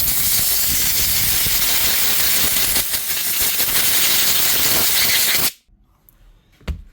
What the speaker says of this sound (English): I'm just going to give this wee blast of the compressor to clean out some of this dust